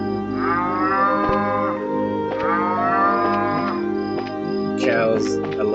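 Cows mooing loudly and close in the video game Legend of Heroes: Trails in the Sky, with two long drawn-out moos in succession over a steady music bed.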